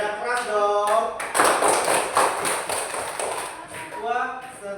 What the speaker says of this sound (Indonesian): tepuk tangan untuk Inara